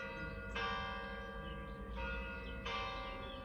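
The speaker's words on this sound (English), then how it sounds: "So we live right near a church, and the bells go off every 15 minutes" Church bells close by strike in repeated rich, ringing peals with long sustained overtones, each new stroke arriving about every second and a half over steady low background hum.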